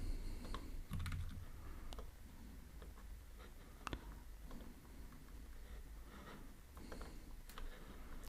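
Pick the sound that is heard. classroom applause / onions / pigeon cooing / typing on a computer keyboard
typing on a computer keyboard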